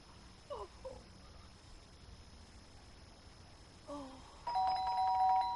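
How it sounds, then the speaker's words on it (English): A doorbell rings in the video game Fragments of Him, a bright electronic chime near the end that follows a faint earlier tone over a quiet, hissing background. "But the doorbell had gone again."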